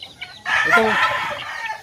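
Chickens clucking and crowing loudly and close by at a backyard poultry pen also holding ducks and turkeys, a burst of overlapping calls that starts abruptly and carries on steadily to the end.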